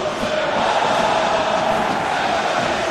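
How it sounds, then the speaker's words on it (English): Stadium crowd in a realistic football video game match between LOSC Lille and Real Madrid gives a broad, steady swell of cheering, a loud, even roar of many voices with no single standout. "Crowd appreciates good football all round there"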